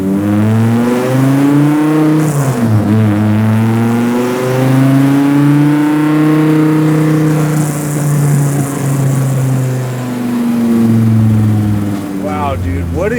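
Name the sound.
800HP 9.0L V10 Plymouth hot rod engine revving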